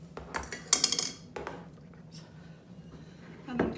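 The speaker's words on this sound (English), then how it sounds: "And then continue to mix it until it all comes together." Meatball mixture being hand-mixed with Italian breadcrumbs in a bowl: a few wet squishes and clinks near the start, then quieter soft mixing noises and a closing thump, heard up close.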